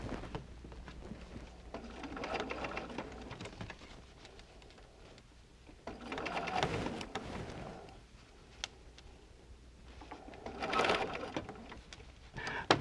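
A sewing machine stitches a curved Drunkard's Path quilt seam in quick bursts of rapid, whirring needle strokes, close and moderately loud, separated by quieter pauses, with occasional speech nearby.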